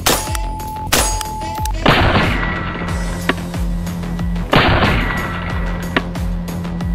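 Rifle shots strike a sloped titanium alloy plate mounted above a Russian K6-3 titanium helmet, landing as several sharp, loud cracks with metallic clangs and ringing decay, spaced a second or more apart.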